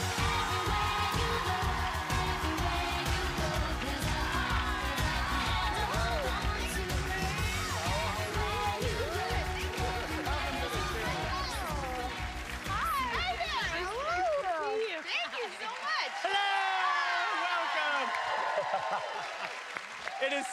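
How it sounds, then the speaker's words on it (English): Studio audience applause on a daytime cooking talk show greets guest Jodie Sweetin, a loud, dense, sustained clapping mixed with cheers over band music, with talk rising over it in the later seconds. "if you don't give her a round of applause"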